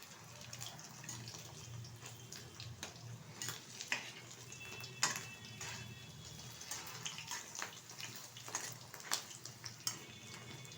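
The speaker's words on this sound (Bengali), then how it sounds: "মাছের ডিমের বড়া ছোট বড় যেরকম যতটা ধরে ঠিক ততটা দিয়ে কিন্তু ভেজে নিচ্ছি" Katla fish roe fritters fry in hot oil in a pan, giving a steady crackling sizzle with scattered sharp pops and ticks throughout, close and fairly quiet, with no talking.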